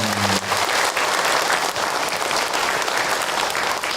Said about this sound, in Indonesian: Tepuk tangan untuk Kak Hilman.